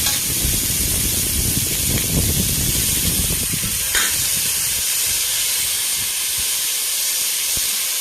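Chopped onions frying in a pan until golden brown for sambar, a steady loud hiss and sizzle with occasional stirring scrapes, strongest early and continuing throughout.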